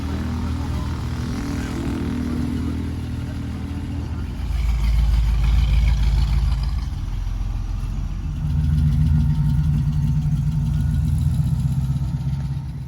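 A vintage Hudson Hornet race car at a historic motorsport festival, its engine giving a low, rumbling idle that swells and surges in loudness, heard fairly close in an open outdoor setting.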